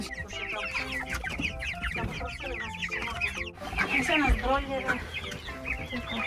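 A flock of chickens clucks continuously nearby, layered busy calls from many birds at once, with no talk over them.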